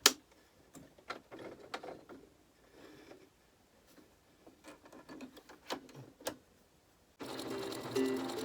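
A domestic sewing machine stitches fabric in short irregular bursts of mechanical clatter between quiet gaps, close by, ending in a steadier continuous whir with a high tonal hum.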